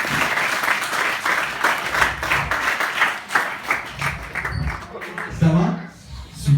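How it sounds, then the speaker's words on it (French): Audience at a live stage hypnosis show claps for a volunteer, a lively but uneven round of applause with a speaking voice over it and a few individual claps near the end. "On peut applaudir Chantal."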